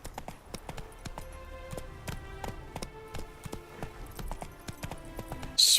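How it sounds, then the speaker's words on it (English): Hooves of Roach, Geralt's horse in The Witcher 3, clip-clop in a steady rapid rhythm at close range, with game music tones underneath and a brief sharp sound at the very end. "Spooking my horse."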